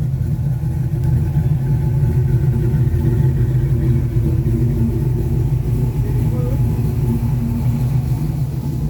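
A 1982 Ford Mustang with a freshly installed 347 stroker V8 idling steadily, a deep, even, rumbling drone that stays loud and close throughout with no revving.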